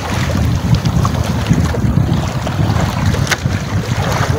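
A boat at sea rides out strong northeast monsoon wind and big waves, with loud, gusty wind buffeting the microphone over churning surf and water slaps throughout.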